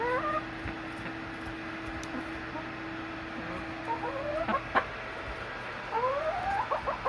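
Chickens eating salad cluck and chirp softly nearby, with a few short rising calls and pecking sounds over a quiet background hum.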